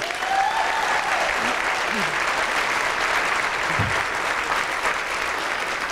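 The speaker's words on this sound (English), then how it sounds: "So a round of applause for these sponsors." A crowd at the Women In Trucking Salute to Women Behind The Wheel event applauds sponsors with long, steady, full-room clapping, a few faint voices mixed in beneath.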